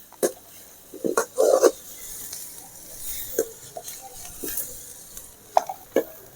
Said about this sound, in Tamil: இப்போ எல்லாத்தையும் நல்லா வதக்கணும்